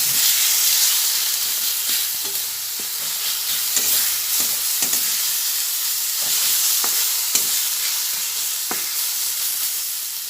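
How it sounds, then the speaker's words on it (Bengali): Chicken masala with ground black pepper frying in a pan for chicken dum pokht, a loud continuous sizzle and hiss broken by repeated scraping stirs of a spatula every second or so, close and with no talking. "আবার ভালোভাবে সব ভেজে নিচ্ছি"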